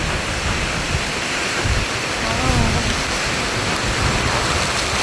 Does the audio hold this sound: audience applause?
no